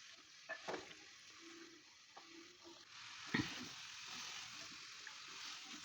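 Whole garam masala spices (black cardamom, bay leaf, black pepper, cloves) and turmeric roasting in a hot pan, a soft steady sizzle with occasional stirring scrapes and one sharper clank, close by and without talk.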